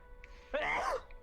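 A single person sneezes once, a short sharp burst in the middle of an otherwise quiet indoor moment, with a faint breath just before it.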